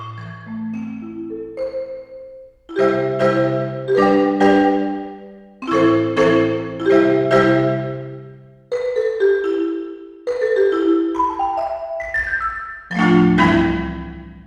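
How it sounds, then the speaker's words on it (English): Sequences of mellow pitched marimba notes rolling up and down in phrases, each ringing out into a roomy reverb tail. "Next one I want to look at is a marimba."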